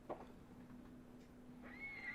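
A horse whinnies in the samurai video game Ghost of Tsushima, a high drawn-out call rising near the end of a brief moment over a steady low hum and faint background game sounds.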